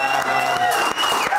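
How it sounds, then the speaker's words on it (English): A studio audience applauds for a variety show, dense clapping with some crowd noise, steady and fairly loud throughout. "Guys, can I get another round of applause?"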